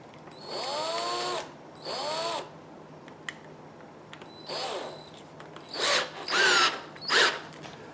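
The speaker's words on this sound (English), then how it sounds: "we chuck it in our drill" A power drill spins wire for a lariat, with one end clamped tight and the other chucked in the drill. It whines in several short bursts that rise and fall in pitch, separated by brief pauses, with no talking.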